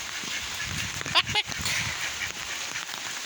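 A couple of brief duck quacks sound near the middle, close by, over a steady rainy outdoor hiss on a village road with faint background noise.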